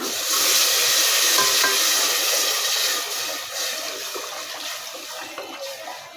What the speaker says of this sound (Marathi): आता मी याच्यात टाकत आहे एक तांब्या पाणी